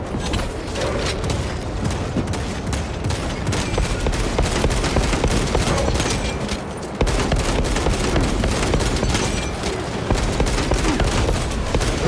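Dense, continuous gunfire from the video game Space Marine 2, with heavy overlapping bursts and booms filling the whole stretch at steady loudness, no voices.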